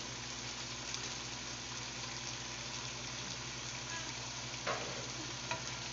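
Butter chicken with green chillies fries in a pan with a constant soft sizzle and a low hum, close but faint, with a couple of light spoon taps and no voices.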